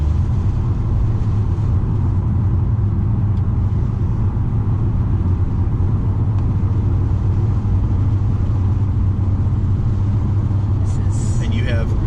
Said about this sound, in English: All I have to do is stand on the gas.